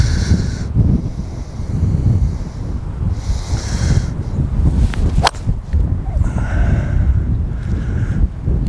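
Gusty wind buffets the microphone outdoors on a golf course, with loud low rumbling blasts that rise and fall and a brief sharp crack partway through.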